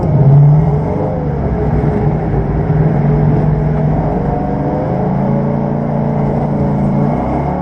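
A Ford Mustang drifting on a circuit at Ferté-Gaucher, heard from inside as a steady, loud engine drone and road rumble at moderate revs, with no talk over it.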